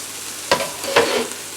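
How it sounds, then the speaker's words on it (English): Broccoli, onions and peppers stir-fry in a pan, a soft sizzle with two quick scraping stir strokes close by, no voices. "onions, and peppers has been cooking for about maybe 3 minutes, give or take."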